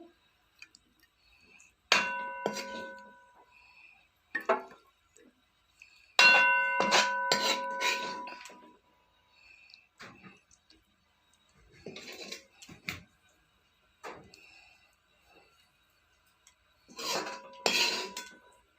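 Rajma and roti served into a bowl at home: dishes, pots and cutlery clink and clang in scattered bursts of bright metallic and ceramic knocks, some ringing briefly, with quiet pauses between.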